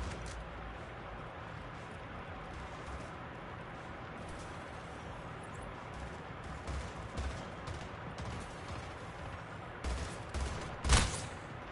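Gunfire in the Splitgate video game, a steady low rumble of shooting with a few sharper, louder bursts toward the end.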